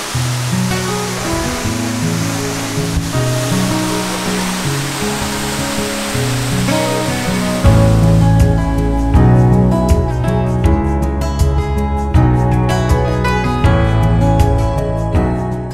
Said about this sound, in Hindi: वाटरफॉल तो खूबसूरत है ये, लेकिन इसका जो पानी है जो नीचे गिर रहा है वो कितना ब्यूटीफुल है यार